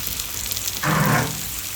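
Bangda mackerel fries in hot oil, a close crackling sizzle that swells briefly into a louder hiss before settling back to a steady frying noise.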